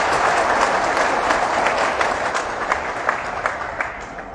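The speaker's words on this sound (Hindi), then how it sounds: "अपने लिए जोरदार ताली बजाएं।" An audience in Patna's Shri Krishna Memorial Hall claps at a commemorative event, a loud, dense burst of applause with sharp individual claps that fades slightly toward the end.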